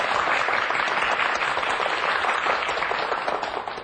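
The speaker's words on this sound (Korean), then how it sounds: "지금까지 우리 실험을 도와주신 우리 김명동 선생님에게 우리 박수 치기로 하죠." A studio audience on a Korean educational TV math lesson claps in dense, steady applause that holds loud for several seconds before starting to taper at the close.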